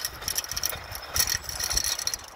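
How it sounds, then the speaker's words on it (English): A small hand-cranked fertiliser spreader for chicken manure turns at an allotment, giving a quiet, uneven run of clicking, ratcheting mechanical rattles with no talk. "Got myself a little spreader."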